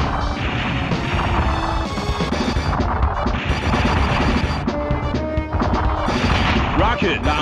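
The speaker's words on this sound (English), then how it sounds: "Heavy machine gun" Heavy machine gun fire in the arcade shooter Metal Slug X, on the mummy stage of a two-player run: rapid, punchy bursts of shots mixed with crashes, explosions and game music, loud and continuous throughout.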